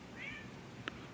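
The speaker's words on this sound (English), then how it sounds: "My cat is coming up behind you. If you can hear that meowing" A single short cat meow, faint and somewhat distant in a quiet indoor room, followed by a small click.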